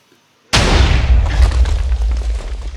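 TNT fired from a redstone cannon in Minecraft detonates in one sudden loud boom that rolls into a long crackling, rumbling decay after a brief silence.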